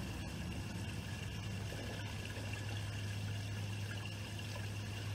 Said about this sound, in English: I want to dump the black water first.